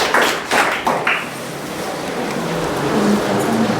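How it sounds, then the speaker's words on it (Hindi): Students in a Class 12 Hindi classroom give a brief round of clapping, a few loose claps in the first second that quickly fade into room noise. "ताली बजाओ भाई इसके लिए भी"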